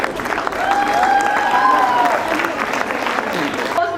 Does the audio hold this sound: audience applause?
yes